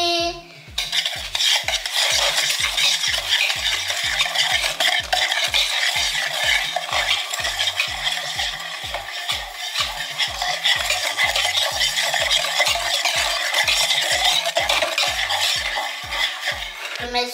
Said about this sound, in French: Maintenant, je vais mélanger.